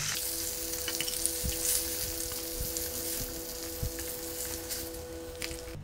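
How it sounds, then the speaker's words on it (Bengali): Climbing perch fish fry in hot oil, giving a dense, steady sizzle and crackle close up, broken by a few soft thumps and utensil knocks as the fish is handled, with no talking. "মাছ ভাজা হয়ে গেছে, এবার তুলে নিচ্ছি"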